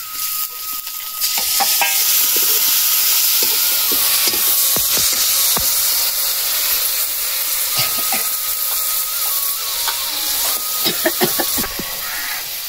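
Ground masala paste sizzles steadily in a hot pan for dahi kadhi, a loud continuous hiss and crackle close up, with occasional stirring clicks and scrapes.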